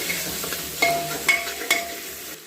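Ground tomato stirred and roasted in a pan for black chickpea curry, with a steady sizzle and three or four distinct scrapes and clinks of a spoon against the pan, close and fairly loud, no talking.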